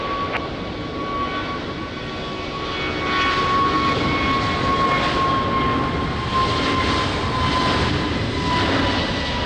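Airbus A321 jet rolling on a runway in the rain, a steady, broad engine roar that swells slightly, heard from a distance and unbroken throughout.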